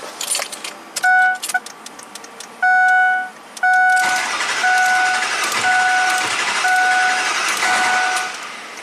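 An '03 Ford F450 PowerStroke diesel tow truck with a no-start fault: a few chimes and clicks, then the engine cranks steadily and loudly for several seconds while a warning chime repeats.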